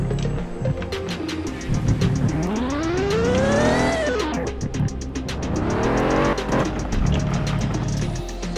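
A blue Corvette engine in a Roblox car game revs up in a rising, falling sweep, then climbs again. The loud, steady sound has a choppy, stuttering texture and plays alone.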